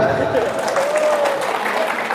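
Audience clapping at a gathering in Central Java, a brief dense burst of applause with a voice speaking faintly over it.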